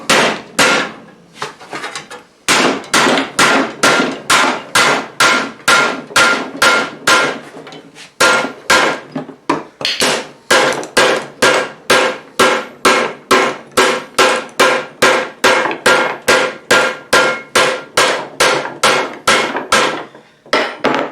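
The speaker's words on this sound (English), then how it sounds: "now I'm going to use a rawhide mallet to finish it up." A rawhide mallet hammers along the edge of a metal greave, striking in a steady, regular series of several dozen sharp blows. The blows are close and loud, with only brief pauses, and there is no talking.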